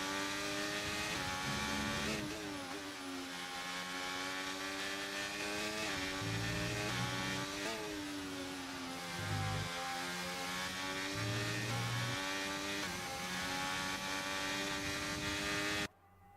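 F2 race cars run through a Formula 2 racing video game round at Austria. Engines scream continuously with rising and falling revs as the cars shift gears and brake, and the whine is steady and close until it cuts off abruptly at the end.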